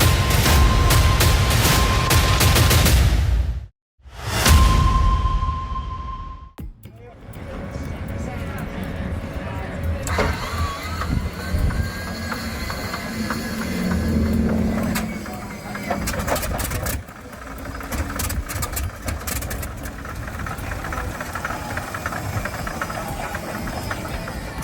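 A Pratt & Whitney R3350 28-cylinder, 71.7-liter radial aircraft piston engine starts up with whining cranking, then settles into a rough, rumbling, uneven idle; voices talk over it at times.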